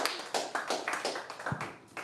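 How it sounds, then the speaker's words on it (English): A small Toronto comedy-club audience claps for a stand-up comedian, a fairly thin, uneven patter of hands close by that swells and fades over a couple of seconds, with a brief whoop but no talking. "More applauses!"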